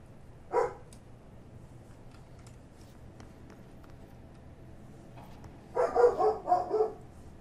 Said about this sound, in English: Shut up, doggy.